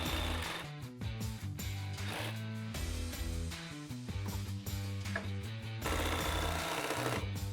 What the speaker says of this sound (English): the top shock bolt is frozen, so we're gonna opt to cut the bolt with a Sawzall